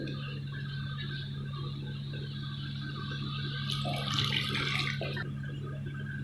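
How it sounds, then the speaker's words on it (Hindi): Water poured into frying masala for aloo gobi, a faint sizzle and splash over a steady low kitchen hum, with a brief brighter burst of hissing near the end. "और मसाला नीचे ना लगे इसलिए इसमें ऐड कर देंगे थोड़ा सा पानी।"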